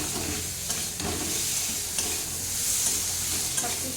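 Onions fry with a steady, close sizzle in a pan while a spoon stirs through them in a few scraping strokes, cooking as the base for a mango dal.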